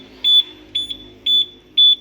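A keyless alarm module on a Honda PCX-style scooter sounds four short, evenly spaced electronic beeps, loud and close. The background is quiet and there is no talk.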